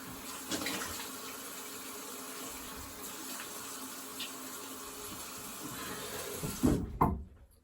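Water runs steadily from a tap for a quick rinse, a soft continuous splash that stays fairly faint before cutting off with a brief louder gush near the end.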